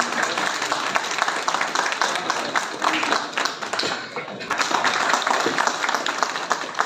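Loud, sustained audience applause at a Hindi-language welcome ceremony with bouquet and memento presentations, a dense wash of many hands clapping throughout, dipping briefly in the middle before surging again, with faint voices mixed underneath.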